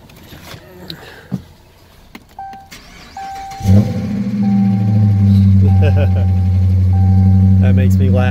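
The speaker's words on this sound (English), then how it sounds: "That is a V8." A V8 car engine cranks and fires up about halfway through, then settles into a loud, deep, steady idle close by, after quiet movement and someone speaking.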